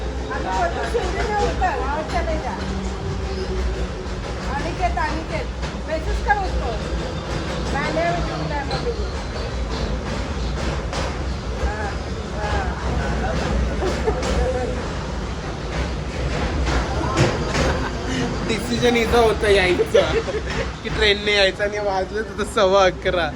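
A constant low rumble of a moving train carriage on a train to Panvel runs throughout, with people chatting and laughing close by over the rolling noise.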